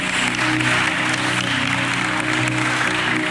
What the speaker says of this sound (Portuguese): Aplauda o seu irmão aí que permaneceu em Jerusalém.